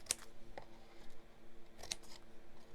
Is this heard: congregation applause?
no